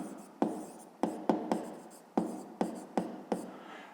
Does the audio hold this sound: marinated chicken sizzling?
no